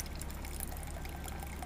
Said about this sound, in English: So our pump is on.